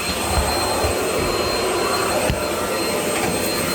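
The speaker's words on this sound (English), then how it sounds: "Vacuum cleaner." A purple stick vacuum cleaner runs close and loud, a steady high-pitched motor whine and rushing airflow throughout, with a brief bump partway through.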